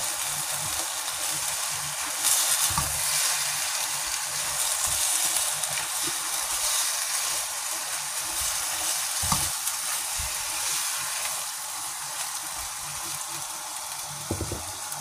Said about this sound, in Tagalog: Add natin yung ating mushroom. Stir natin ulit.